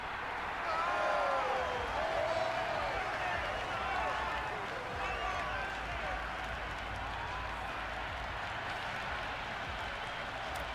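Crowd at a video game cricket match in Cricket 26, India vs New Zealand one-day international, roaring and cheering in a dense, steady wash that swells early then holds, with no clear individual voices.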